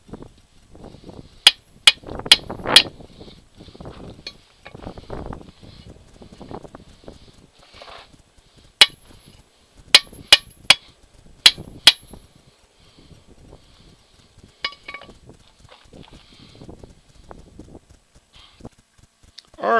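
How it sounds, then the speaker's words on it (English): Sharp metallic hammer strikes driving out the universal joint caps on a Suzuki, coming in uneven clusters of loud, ringing blows with quieter tapping and handling noises between them. "I'll see if I can drive them out"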